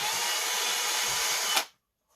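A power drill with a 3mm bit bores a hole for a bipod stud in a Gamo Phox air rifle, a steady close whir lasting about a second and a half before cutting off abruptly.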